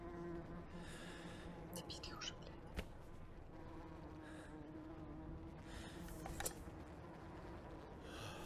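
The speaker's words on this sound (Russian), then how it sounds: "И затишье и мухи." Flies buzzing in a quiet lull of a video game after explosions, a faint steady drone with a few louder passes and occasional clicks, while a person talks softly at times.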